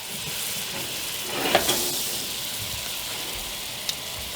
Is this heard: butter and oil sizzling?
yes